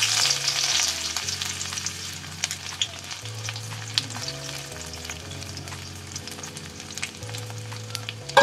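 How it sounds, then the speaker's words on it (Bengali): Onion and sliced bitter gourd fry in a pan for Bengali ucche bhaja, a steady close sizzle with scattered spoon scrapes and stirring knocks, soft music playing beneath. "এখন উচ্ছে ভাজাটাকে আমি ভেজে নিই।"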